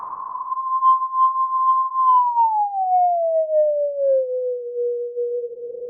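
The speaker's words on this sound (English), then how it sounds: "you can pretty much get sine waves out of the noise" A u-he Diva synth pushes resonant filtered noise into a pure sine-like tone, which holds steady and then glides slowly downward, sounding loud and alone.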